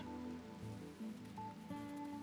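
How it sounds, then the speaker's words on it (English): Steady rain in the video game RimWorld at midnight, a soft continuous patter of drops that runs unbroken under low tonal game music. "It is midnight and raining."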